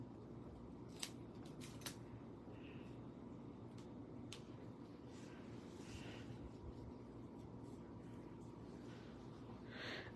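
Scissors snip cardstock for a handmade card, a few short crisp cuts spaced out over low room noise, close and fairly quiet, with no voices.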